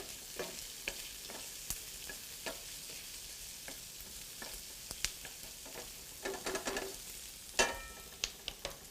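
Garlic and onion sauté gently in a pan, a soft continuous sizzle broken by scattered clicks and scrapes of stirring, close and moderately quiet with no talking.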